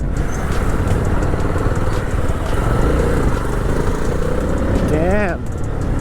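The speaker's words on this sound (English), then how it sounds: "That symphony from the exhaust is just mesmerizing." A 2025 Jawa 42 FJ 350 motorcycle exhaust rumbles steadily and loudly while riding, with a brief rising and falling tonal sweep near the end.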